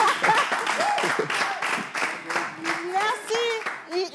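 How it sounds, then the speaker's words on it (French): An audience claps steadily through a lively French broadcast show while voices call out and speak over the applause the whole way through. "On applaudit Mantin Ambulant."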